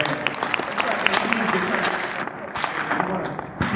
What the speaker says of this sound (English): Let's give Carol another round of applause.